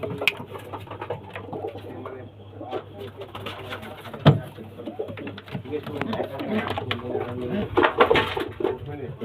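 Kalanka and Pilanka breed pigeons coo repeatedly from close by in a loft, soft throaty calls rising and falling under a man's ongoing speech, with some faint chirps and background clatter.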